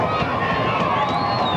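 A rugby league crowd at the Lawcombe Lane end of the Keighley ground makes a loud, continuous roar of cheering and shouting as they wait for a goal kick.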